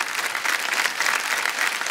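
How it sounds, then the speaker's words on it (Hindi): Studio audience applause on the Kaun Banega Crorepati game show, a brisk, continuous clapping from the crowd, fairly loud and even through the short stretch. "तालियां बजाने के लिए।"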